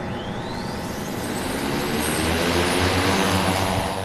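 A large medication-delivery drone of about 55 pounds flies with its propellers buzzing in a steady, loud, continuous drone that holds throughout, with no talking.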